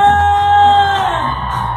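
Women in a crowd at an outdoor plaza cumbia concert scream together in one loud, sustained shrill cheer that fades slightly over under two seconds.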